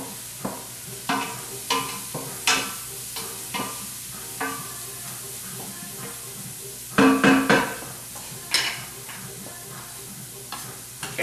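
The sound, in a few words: stirring onions cooking in a pot for corn chowder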